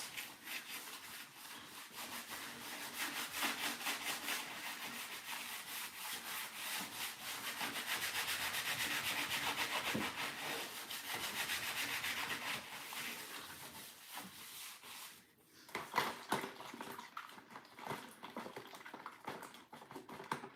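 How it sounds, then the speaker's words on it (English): Someone scrubs down the inside of an oven. The rubbing is faint but continuous, with a brisk back-and-forth rhythm and a few louder knocks and scuffs toward the end. "So just scrub everything down first."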